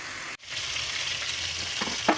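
Chicken fries in gold flower oil with a dense, close hiss that cuts out briefly near the start, then resumes steadily, with a couple of small scrapes toward the end.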